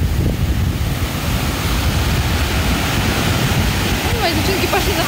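Storm-churned sea waves wash onto a beach at Nha Trang, Vietnam, a steady broadband roar of surf filling the scene, with wind buffeting the microphone and faint voices in the background near the end.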